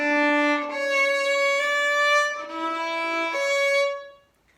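A bowed string instrument plays Vivaldi measures 5 and 6 alone, a handful of sustained notes with a low steady pitch and a few changes above, ending with a short fade.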